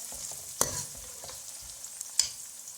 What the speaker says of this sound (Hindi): प्याज को मैंने ब्राउन करने के लिए रखा हुआ है।